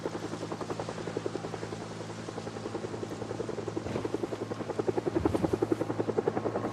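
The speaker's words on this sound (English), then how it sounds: "There's one thing I hate more than the zombies, it's this goddamn helicopter." A helicopter in the zombie survival game Project Zomboid, a steady rhythmic rotor thumping that grows louder and nearer across the stretch with no voices.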